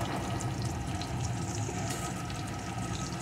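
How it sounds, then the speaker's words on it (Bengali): Cut potato pieces frying in a pan with chopped onion for a shol fish and danta dish, a steady dense sizzle that continues evenly throughout. "আলুটাও ভেজে নেব"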